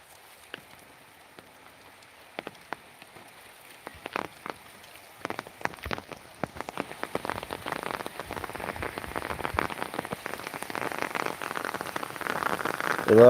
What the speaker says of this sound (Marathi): पाऊस थांबायचं नाव घेत नाही